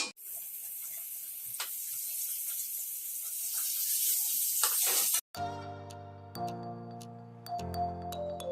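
Pointed gourd (potol) hits hot oil in a pan with a loud, steady sizzle that swells for several seconds, then cuts off abruptly; a short stretch of bright electronic music follows.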